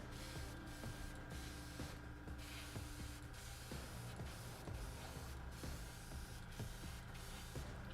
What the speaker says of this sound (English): It's definitely spraying a lot better.